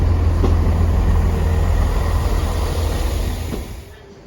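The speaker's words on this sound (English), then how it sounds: "Train's incoming." A Chiltern train from Leamington pulls into a station on the Shakespeare line in January, a loud, close, steady low rumble that fades toward the end as it slows.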